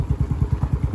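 A motorcycle ridden in cold weather, its engine thumping in a fast, even pulse, loud and close, with no voices over it.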